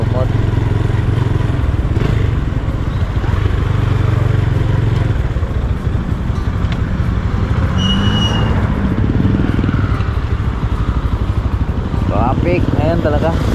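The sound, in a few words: road traffic with motorcycles and cars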